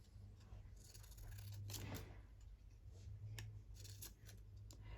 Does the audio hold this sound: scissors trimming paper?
yes